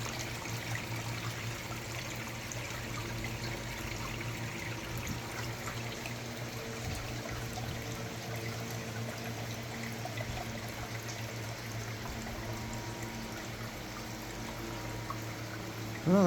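Water runs continuously down a newly built backyard creek, a steady close trickle and babble with bubbling, holding at an even level throughout.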